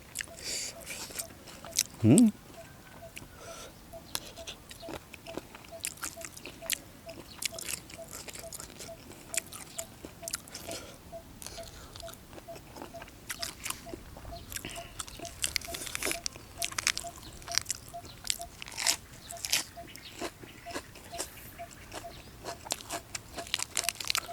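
Crisp, crunchy bites and chewing of spicy fresh shrimp salad, close up and fairly quiet, with irregular repeated crunches and wet mouth sounds, a sharp louder bite near the start.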